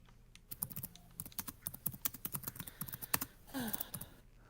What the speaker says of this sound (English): There goes the bloody keyboard.